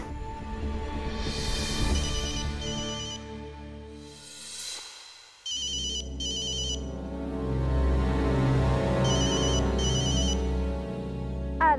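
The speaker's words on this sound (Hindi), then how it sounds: "हमारा फोन का ही झांझा बच रहा है, पता नहीं कौन हमारे फोन का इतना प्यासा है" A phone rings with a loud electronic ringtone in repeated bursts, pausing briefly midway and then ringing again over background music in a Hindi TV serial scene.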